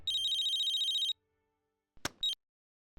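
A telephone rings with an incoming international call, a bright electronic ringtone pulsing steadily for about a second before cutting off, followed after a pause by two short bursts of noise.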